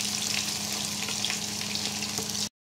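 Onion and garlic sizzle in hot oil in a pan, a close, steady frying hiss with light crackles that stops abruptly.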